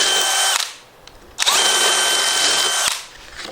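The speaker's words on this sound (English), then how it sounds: "And then just get it started with the drill" A power drill whines loudly through timber in two bursts, the motor running steady, pausing briefly, then spinning up again close by.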